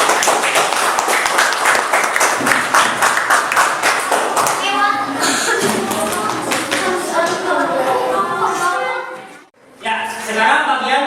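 Classroom students break into sustained, dense applause during a group-work lesson, many hands clapping loudly and evenly for several seconds before it thins, with children's voices mixed in and a brief lull near the end.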